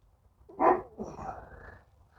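A dog barks once nearby in a garage during an oil change on a 2018-or-newer Ford Expedition, then lets out a trailing whine against a quiet background.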